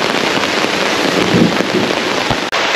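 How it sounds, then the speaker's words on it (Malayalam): Steady, loud rain falling outdoors during a walk through a Kerala village, a dense hiss of drops with occasional heavier splatters, close and continuous without talking. "മഴ ഏകദേശം കുറഞ്ഞിട്ടുണ്ട്."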